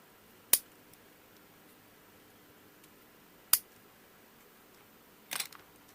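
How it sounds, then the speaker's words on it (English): Scissors snip small bits of hot glue stick, three sharp isolated clicks a few seconds apart in a quiet room, the last a slightly rougher double cut. "Cut small bits of hot glue and fill them into the unshrink area."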